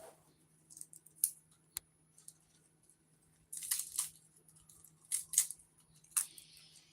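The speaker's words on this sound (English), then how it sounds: "I think I'm just going to rip these up. I hear the sound of the ripping." Leafy greens being ripped apart by hand in a kitchen, heard as short crisp tearing bursts in irregular clusters, close and distinct against a quiet background.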